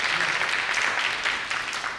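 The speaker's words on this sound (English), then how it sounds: "A big applause to our experts for their very insightful panel discussion." An audience at a conference on net-zero prosperity applauds panel experts, a short, fairly loud burst of many hands clapping continuously throughout.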